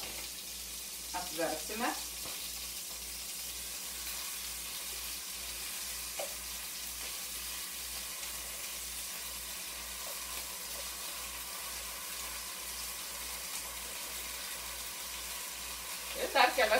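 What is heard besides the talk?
salmon fish frying in a pan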